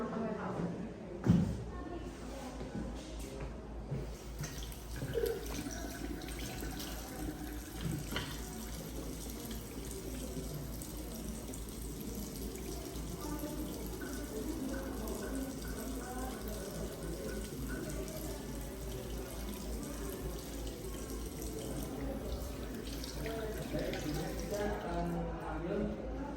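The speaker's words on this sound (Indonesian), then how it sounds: "alangkah baiknya mencuci tangan lagi menggunakan 6 langkah WHO" Tap water running steadily into a sink while hands are washed using the six-step WHO method after a helminth examination, a continuous close splashing stream with soft rubbing and a few louder knocks early on, voices talking over it.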